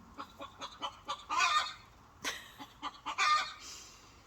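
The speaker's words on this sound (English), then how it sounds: "How distracting is the chicken screaming in the background?" A backyard chicken squawks and clucks in loud repeated bursts, some short and some drawn out, close by in an otherwise quiet setting.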